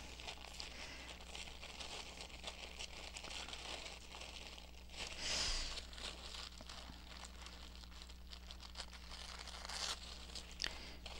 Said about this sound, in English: And I am going to tear around them.